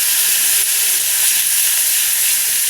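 Water hits hot spiced oil in a pan while a Bengali pabda fish curry is being made, giving a loud, steady sizzling hiss that stays constant without any talking.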